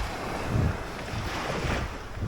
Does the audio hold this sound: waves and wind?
yes